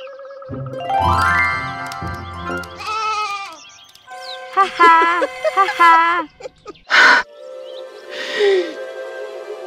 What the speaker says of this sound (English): Let's get that sheep.